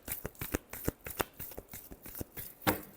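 A deck of tarot cards being shuffled by hand, quiet riffled slaps and flicks in a quick irregular rhythm, close and alone without any talk.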